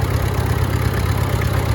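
A tractor engine idles close by, a loud, steady low rumble with an even mechanical chug and no other sounds.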